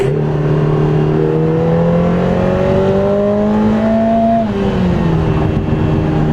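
A Lotus Emira sports car accelerates hard on a race track, its engine note climbing steadily and loudly through the revs, then dropping at a gear change before pulling upward again, close and continuous with no talk.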